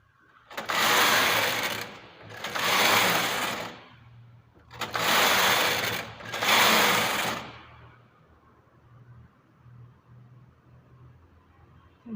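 A machine knitting a lace punch card pattern, four loud close whooshing carriage passes in pairs, each about a second long, followed by a low steady motor hum.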